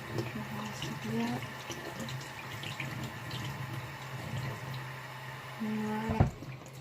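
Tap water running into a kitchen sink while food is rinsed, a soft continuous splashing stream at low level, with a person speaking over it and a brief louder splash near the end.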